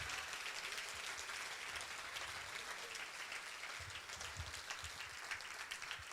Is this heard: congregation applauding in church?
yes